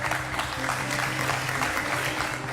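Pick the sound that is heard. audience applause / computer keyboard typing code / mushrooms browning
audience applause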